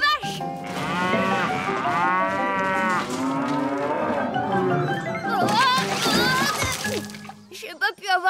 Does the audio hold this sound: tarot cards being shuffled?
no